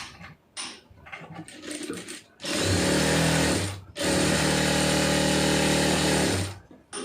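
A sewing machine stitches a folded quarter-inch hem in two loud, steady runs of whirring motor and needle. Each run lasts over a second and a pause falls between them, with quieter handling sounds before.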